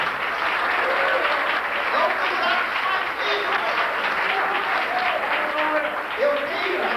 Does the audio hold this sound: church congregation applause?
yes